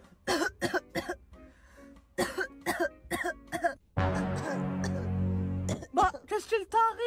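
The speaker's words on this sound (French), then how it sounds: "je commence à avoir mal à la gorge là et je tousse beaucoup" A child's harsh, repeated coughing, a burst of several quick coughs, then a longer strained throat-clearing rasp, with talking between and after.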